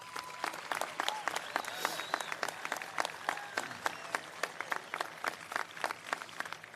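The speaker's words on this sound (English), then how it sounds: "So could we give them a round of applause, please?" Sustained audience applause fills a graduation ceremony hall, dense clapping with sharp individual claps that carries steadily throughout, with faint crowd murmur underneath.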